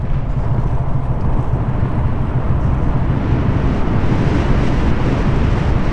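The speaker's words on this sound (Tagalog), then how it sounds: "lakas ng hangin." Strong wind buffets the microphone in a steady, loud low roar through the whole stretch, heard while riding along a road on a loaded vehicle near Barangay Labi, Bongabon, Nueva Ecija; no talk.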